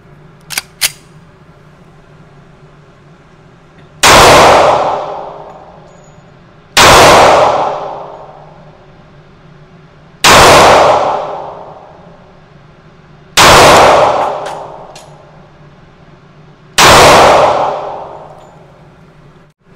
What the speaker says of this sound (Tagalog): fire na natin ang Glock 30 Gen 4